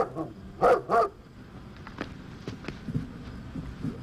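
A dog in a 1965 Forest Rangers episode gives two sharp, close barks in quick succession, followed by softer scattered yips and rustling at a lower level.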